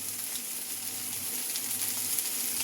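Smashed burger patties sizzle steadily in a hot pan, a continuous soft crackling hiss with no talking.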